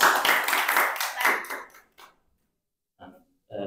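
A short burst of clapping from a small group at the 45th anniversary celebration of KMPKS Yogyakarta, lively for under two seconds before fading into silence, with a few faint sounds afterward.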